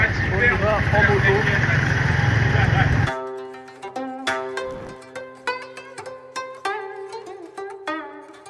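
A motorcycle engine in Marrakech drones loudly for about three seconds, then cuts off as plucked, tonal music takes over.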